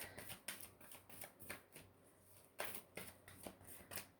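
Angel oracle cards shuffled by hand in quick, repeated riffling bursts, soft and close, alone without talk.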